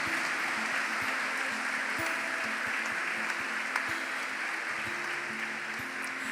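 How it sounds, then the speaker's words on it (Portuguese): A congregation in church clapping in a steady, fairly faint wash of applause, with a low hum underneath. "Quem crê, dê uma salva de palmas bem forte ao Senhor."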